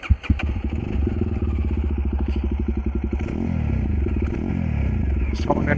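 A Jawa Bobber 42 motorcycle with its stock factory silencer runs close by, a steady loud chugging idle with a rapid even thump and slight clatter, a voice talking over it.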